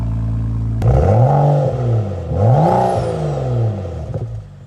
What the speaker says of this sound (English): It's just a muffler delete. That's more of a cold start.